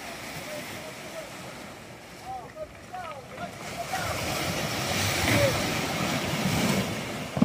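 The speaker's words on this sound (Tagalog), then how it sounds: "lalakas pa ng alon" Sea waves wash against a small boat being hauled up a rocky shore, a steady broad surf roar that gradually swells louder, with wind buffeting and people calling out over it.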